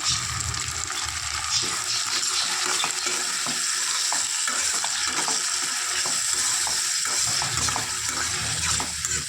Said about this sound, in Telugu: ఇప్పుడు టమాటాలు వేసుకోవాలి. మొత్తం ఒకసారి తిప్పుకుందాము.